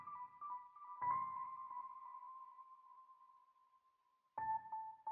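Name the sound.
piano and stage 73 counter melody downsampled to 5K, underwater effect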